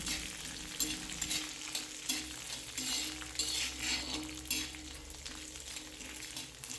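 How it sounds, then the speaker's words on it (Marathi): Chutney ingredients and peanuts fry and sizzle in a pan, a steady crackling hiss with occasional stirring scrapes and light clinks of a utensil against metal. "आणि हे सर्व साहित्य ना आपल्याला चांगलं असं फ्राय करून घ्यायचं आहे"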